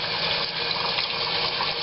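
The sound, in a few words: water draining from a tube in a diffuser demonstration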